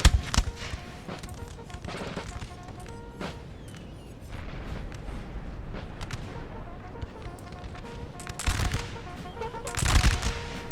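Musket volleys crackle across a Napoleon Total War line battle between British and French troops, a continuous ragged stream of distant shots with heavier booming bursts near the middle and end.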